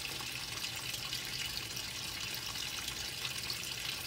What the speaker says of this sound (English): A washing machine is supposed to actually agitate the stuff, not move them around.